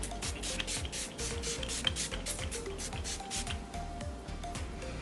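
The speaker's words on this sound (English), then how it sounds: "I'm gonna use the matte spray I told you about. It is a makeup setting spray, a mattifying one" A mattifying makeup setting spray is misted over a face in a series of quick, soft, airy spritzes in close, quiet surroundings.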